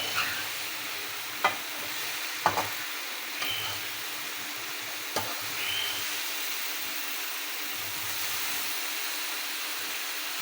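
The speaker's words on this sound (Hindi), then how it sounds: "बस अच्छी तरह इसको मिक्स करें मसाले में, तो भिंडी पे सारा मसाला कोट हो जाए।" Okra being stirred into masala in a pan on a stovetop, a steady low sizzle with soft scraping and a few sharp knocks of the spoon against the pan, close and fairly quiet, no talking.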